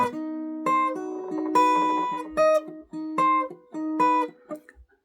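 A classical guitar plays a melody on the first string, its plucked notes cutting off abruptly and leaving short gaps between them instead of ringing into each other.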